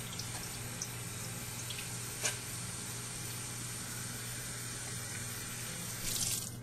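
Water runs steadily into a tank feeding a siphon drain system, a constant faint rushing flow with a low hum beneath and a brief splash partway through.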